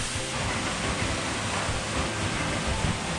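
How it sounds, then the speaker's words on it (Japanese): Close behind the frozen Iori Falls in Nikko, Tochigi, a small winter flow of falling water makes a steady, dense rushing hiss that holds evenly throughout, with no speech over it. "滝をこう今裏側から見てます。"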